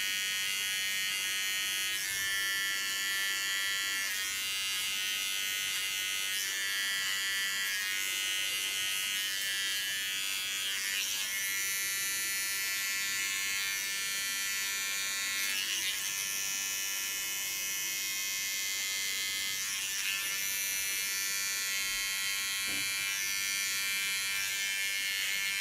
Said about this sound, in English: So when you do a nape shave,